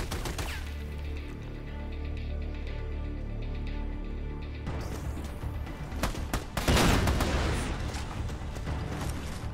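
Gunfire in the Army of Two video game arrives as bursts of sharp shots, first scattered and distant, then a louder, dense volley near the end.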